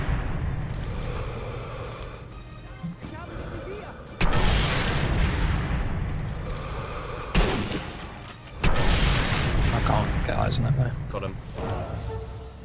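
Explosions in Sniper Elite 3, a few heavy booms with long rumbling tails, loud and close, while someone talks throughout.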